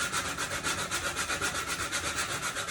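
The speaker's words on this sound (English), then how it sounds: "But basically, I'm just sanding." A foam core shoe is sanded by hand, with rhythmic back-and-forth rasping strokes repeating at a steady pace, close and fairly quiet with no talking.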